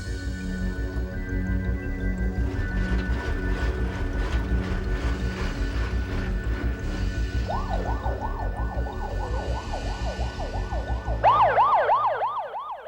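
An ambulance siren at the foot of a mountain starts after a stretch of mechanical clattering and rumble, wailing in quick repeating cycles and growing louder and higher toward the end.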